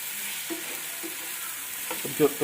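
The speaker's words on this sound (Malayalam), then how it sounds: "രണ്ട് ടൊമാറ്റോ അടി പിടിക്കാതിരിക്കാൻ ഇളക്കിക്കൊണ്ടിരിക്കുക" Two tomatoes frying in a pan for bachelor-style biryani, stirred continuously: a soft steady sizzle with occasional scraping spoon strokes, growing louder and busier toward the end, with no talking.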